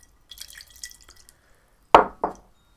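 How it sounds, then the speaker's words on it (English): Water drips off a varnished mini bagpipe, two distinct close splats landing after a faint scattered patter of smaller drops. "Lots of water beading, even dripping off."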